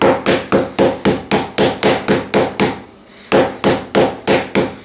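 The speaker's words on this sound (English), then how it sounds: "just put that on top and start whacking it with a small rolling pin" A small rolling pin whacks Danish pastry dough covered in plastic wrap in a fast, steady series of loud thuds, about a dozen blows, a brief pause, then several more.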